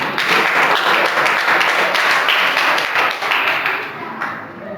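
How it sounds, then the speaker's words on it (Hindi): Audience applause at a Christmas party at a centre for special children, a loud, dense burst of clapping that runs steadily for several seconds before starting to thin out. "आपकी भरपूर तालियों में।"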